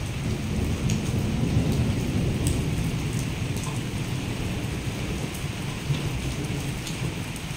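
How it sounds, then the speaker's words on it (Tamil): Steady heavy rain falling in Qatar, a dense continuous hiss with low rumbling undertones, close and constant throughout with no voices. "இந்த டைமுக்கு மழை பெய்யுது."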